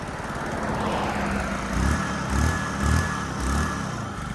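A moped on an open rural road, its small engine droning steadily with a rhythmic pulsing hum, close and continuous with no talk.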